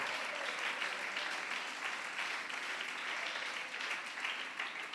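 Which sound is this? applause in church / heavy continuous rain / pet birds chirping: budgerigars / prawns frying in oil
applause in church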